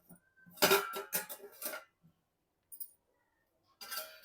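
Metal pot lid lifted off a pot of masala rice after low-heat cooking, giving a cluster of clinks and clanks up close, a brief clatter, then a pause before a final scrape of metal.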